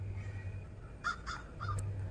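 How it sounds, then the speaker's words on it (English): Several crows cawing outdoors in trees, a quick run of three or four harsh calls at moderate distance over a low steady hum, with no talking. "There's the crows."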